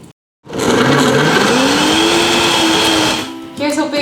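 A powerful blender whirs loudly and steadily for about three seconds while blending a smoothie with nut milk, then winds down into a lower, uneven churn.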